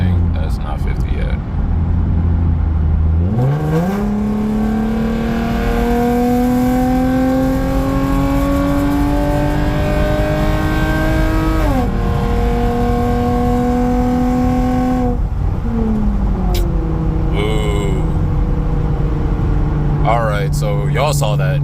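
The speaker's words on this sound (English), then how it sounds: "we're gonna floor it as if we're in a roll race" A Lexus IS 250 fitted with an RR Racing carbon intake is floored from around 50 in a roll-race pull. The engine note climbs loudly through the revs, with clear upshifts and renewed surges, and stays close and dominant throughout.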